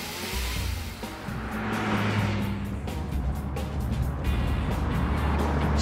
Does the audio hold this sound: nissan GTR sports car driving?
yes